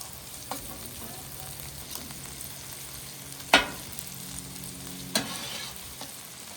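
Bacon cheese tortilla skewers fry in a hot pan with a steady, moderate sizzle, broken by a few sharp clicks and taps as they are handled.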